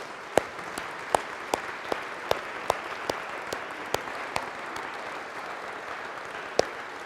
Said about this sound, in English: Applaud God.